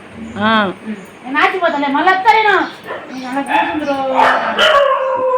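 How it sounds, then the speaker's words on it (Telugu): Dogs yip, whine and bark in short excited bursts nearby, several high-pitched calls overlapping with a person's voice. "కుక్కలు అన్ని బట్టలు గుంజుతున్నాయి సుజాత పెట్టుకోనీయకుండా బ్యాగ్లో"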